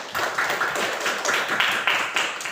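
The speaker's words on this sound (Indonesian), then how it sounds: "berikan dulu tepuk tangan untuk kita" A class of students in a school lesson claps together, a brisk run of close, distinct hand claps in a loose rhythm, short and fairly near.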